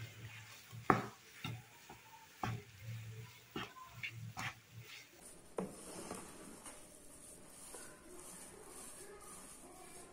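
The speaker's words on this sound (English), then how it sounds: "Add in salt to taste and give everything a quick stir." Mint chutney with salt is stirred in a pan, a quiet run of scraping, tapping spoon strokes over the first half, then fading into a faint steady hiss.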